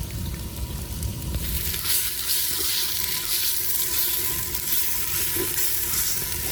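Garlic frying in a pan for rasam, a steady broadband sizzle that continues unbroken throughout at moderate loudness, with faint stirring noises and no talk.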